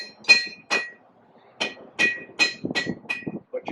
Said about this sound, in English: I'm going to put on what we call a cutoff hardy, and it's actually just a chisel that I can hold in my anvil